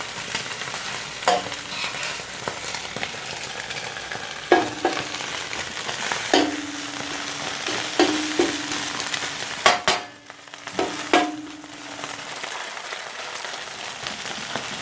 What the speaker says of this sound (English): So here we just fry up the omelette first as it is.